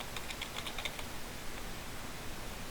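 Quick, light keystrokes on a computer keyboard, a brief burst of several taps close by, then quieter scattered clicks fading into a soft background hiss, no voices.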